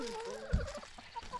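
Backyard chickens cluck and squabble over feed, soft clucks and a short thump heard close but faint, with low murmuring underneath.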